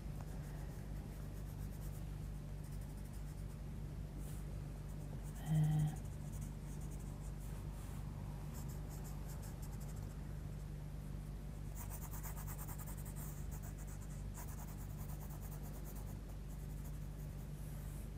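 A red Coloursoft coloured pencil scratches softly and continuously as it is drawn lightly across a black sketch pad, faint and steady with no voices.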